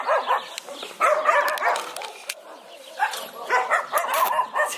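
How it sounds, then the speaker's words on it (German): Street dogs barking on the road outside a house, several short barks and yips at a middle distance, coming in bursts with some whimpering between them. "Draußen, also vor dem Haus, auf der Straße warten auch noch welche Hunde."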